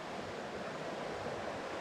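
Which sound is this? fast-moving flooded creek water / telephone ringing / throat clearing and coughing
fast-moving flooded creek water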